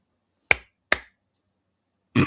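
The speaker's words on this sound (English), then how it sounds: "I'm going to clap my hands." Two sharp hand claps in a dark place, spaced about half a second apart, crisp and alone, followed by a brief breathy sound after a pause.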